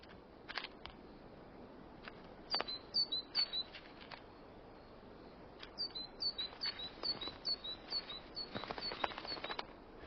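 Tits call in a snowy Siberian winter forest, giving thin, high chirps in short rapid bursts, scattered and fairly faint, over a quiet, hushed background with a few soft ticks and rustles.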